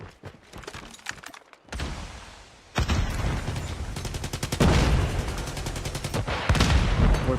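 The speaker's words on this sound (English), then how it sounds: "We're being spammed here from the tin itself with the PKM." A PKM machine gun fires in Call of Duty Mobile, with sustained rapid bursts of loud, rhythmic gunfire growing denser and heavier toward the end, broken by brief pauses and mixed with other weapon shots.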